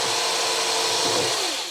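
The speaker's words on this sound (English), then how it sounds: "I'm just going to drill straight through the small target hole" A power drill bores straight through a rubber belt on a 3D-printable camera slider build, a loud continuous whirring grind held steady throughout, slightly tapering at the end.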